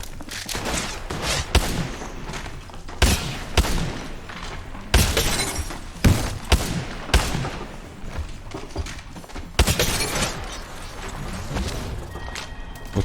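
Shotguns including a Mastiff firing in Apex Legends Mobile, sharp loud blasts at irregular intervals amid other gunfire and impact crashes, close and punchy with short gaps between shots.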